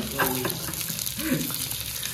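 Sliced potato chips frying in a pan of oil and being turned with a knife, a steady close sizzle with a few soft scrapes, and a voice briefly speaking over it outdoors.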